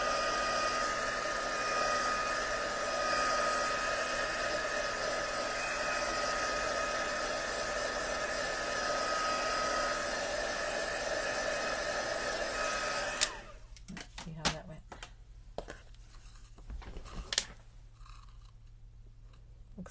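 A heat tool blows steadily and loudly while drying a handmade congratulations card, running continuously for about thirteen seconds before cutting off, followed by a few quiet handling clicks and taps.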